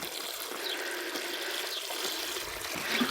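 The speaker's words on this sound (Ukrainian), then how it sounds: "налили води" Water poured from a container into a freshly dug hole in garden soil in a cucumber bed, a steady rushing splash that fills the whole stretch at an even level and swells slightly near the end.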